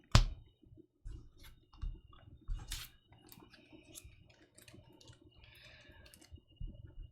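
Card deck shuffled for an Arkham Horror card game session: quick riffling, clicking bursts of shuffled cards, close and moderately loud, with a few pauses between rounds and no talking.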